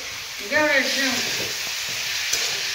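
Broad bean pods with garlic and coriander cooking in a pan give a steady, close sizzle and frying hiss, with a brief voice speaking over it near the start.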